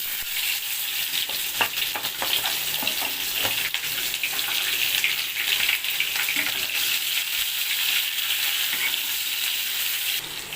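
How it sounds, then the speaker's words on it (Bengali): Chopped onion frying in hot oil for a prawn dal gives a loud, continuous hissing sizzle that stays dense and even throughout, with faint stirring clicks and no speech. "এবার আমি দিয়ে দেবো পেঁয়াজ কুচিটা"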